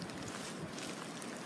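Outdoor wind on a very windy day, a loud continuous rush buffeting close to the microphone, with no voice and no break.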